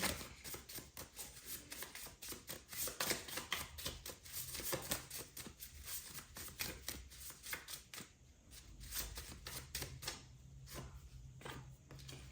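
A deck of tarot-style cards is shuffled and handled, giving a faint, continuous patter of quick crisp flicks and taps with no voices.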